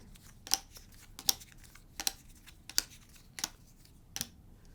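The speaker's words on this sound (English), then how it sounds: "we're going to shuffle them together" Hanafuda playing cards being shuffled together, heard as six sharp riffling snaps spaced about three-quarters of a second apart, close up and alone over a quiet background.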